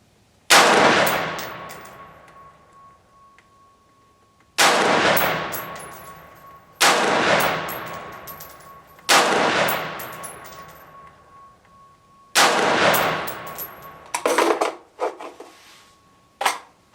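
Retro 601 rifle firing 5.56 mm 55-grain ammunition: four loud, sharp shots spaced a few seconds apart with long ringing decay, then a burst of quicker clattering reports near the end.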